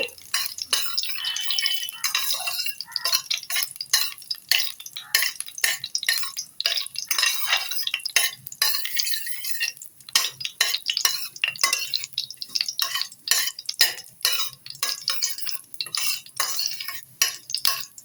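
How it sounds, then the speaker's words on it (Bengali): Panch phoron spices frying in oil in a pan for a sweet, sour and spicy pickle, with repeated quick scraping and clinking of a spatula stirring them at close range, a steady crackle underneath and no talk. "5 ফোড়ন দিয়ে এটাকে আমি মিনিটখানে একটু ভালোভাবে একটু ভেজে নেব।"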